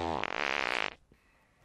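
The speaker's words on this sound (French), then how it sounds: "Vous avez pété, là?" A single loud, buzzy fart, lasting almost a second with a sputtering flutter, then silence.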